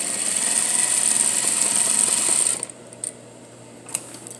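A sewing machine running a double needle top stitch on jeans, a steady close whirring hum for a couple of seconds that stops abruptly, followed by a few light clicks.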